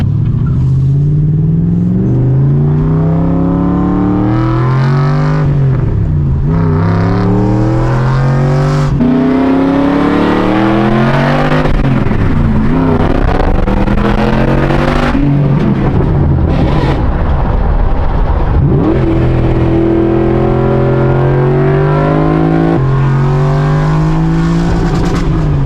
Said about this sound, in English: We're gonna give it a rag and see if any smoke comes out the exhaust